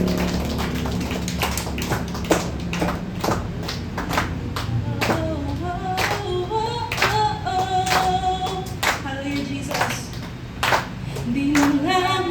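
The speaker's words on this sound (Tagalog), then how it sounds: "Tayo pumalakpak." A church congregation claps steadily during a worship service, with sharp, rhythmic handclaps close by. A singing voice carries a melody over the clapping.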